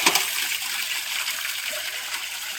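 Water is poured onto the freshly plastered base of a newly installed roadside tap, giving a steady, close splashing and trickling wash that runs the whole time with no voices.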